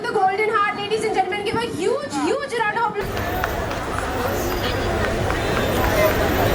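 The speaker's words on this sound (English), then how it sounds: "A man with a golden heart, ladies and gentlemen, give a huge round of applause." A Mumbai World Environment Day event for the Bhoomi Namaskar campaign. After about three seconds of amplified talk, a dense, steady wash of audience applause fills the rest of the clip, loud and continuous.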